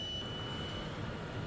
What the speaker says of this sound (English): you are going to hear some beeping the whole time because the fuel cell is low on fuel